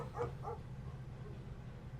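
Dogs in the Pupperazzi game giving two quick faint barks early on, then a low steady background hum, distant and soft with no talk.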